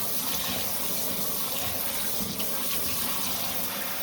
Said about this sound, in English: You can use whatever you need to get the water into the container.